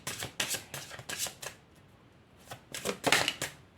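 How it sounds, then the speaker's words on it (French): Tarot cards are shuffled and drawn in several quick riffling bursts, close and crisp, with a short quiet gap in the middle before a louder final flurry. "Je vais tirer les cartes ici."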